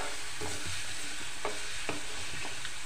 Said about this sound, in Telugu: ఎల్లిపాయ కొంచెం వేగాలి.